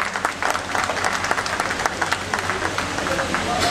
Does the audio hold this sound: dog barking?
no